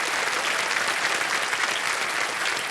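A television game show studio audience breaks into dense, continuous applause, a steady wash of many hands clapping at even loudness throughout, with no one speaking over it.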